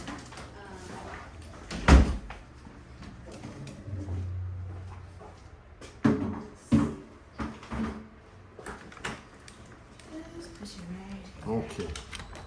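A door at a veterinary clinic being unlocked and opened, with a few sharp knocks and clunks of handle and latch, one loud thump early on, amid quiet voices and room noise.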